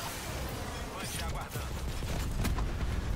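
Rapid bursts of gunfire in Call of Duty Black Ops 4, crackling shots and impacts packed densely over a steady game din, with a sharper cluster near the end.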